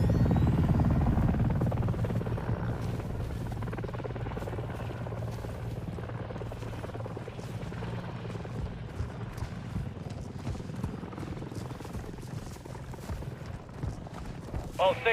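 A helicopter in a realistic military video game drones with a steady low rotor thrum that slowly fades, while game voices and radio chatter run over it.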